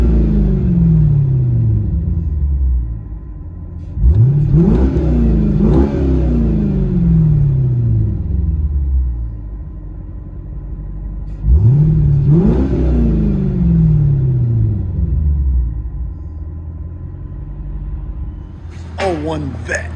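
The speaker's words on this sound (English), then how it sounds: "one vet with Billy Boat exhaust" Cabin view of a 2001 Corvette 5.7L V8 with Billy Boat exhaust, deep loud rumbling idle with two strong revs that climb and fall back, a voice talking faintly over the engine.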